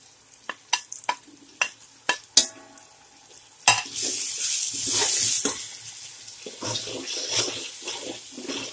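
Masala of tomatoes, turmeric, coriander powder, salt and red chili stirred in a pan, a few sharp spoon knocks first, then a steady loud sizzle with scraping under it, alone without voices.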